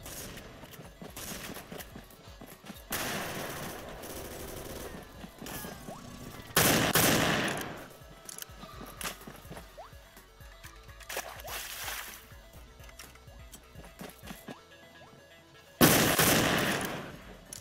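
Bursts of video game gunfire in Roblox Ragdoll Mayhem, several loud volleys separated by quieter stretches of clattering game noise.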